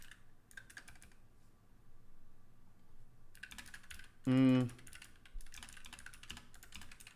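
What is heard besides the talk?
typing on a clicky blue-switch mechanical keyboard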